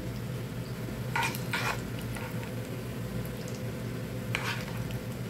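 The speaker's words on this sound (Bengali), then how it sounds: "রসুন এবং শুকনো মরিচ দিয়ে ঘিয়ের মধ্যে একটু ভেজে নিব" Garlic and dried chillies frying in ghee make a steady, close sizzle, broken by a few scraping stirs of a utensil against the pan.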